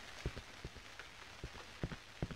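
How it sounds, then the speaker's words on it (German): Rain leaking through a roof in the horror game Cry of Fear: faint steady patter with scattered louder drips plinking irregularly, quiet and close, no voices. "Und es regnet sogar durchs Dach durch."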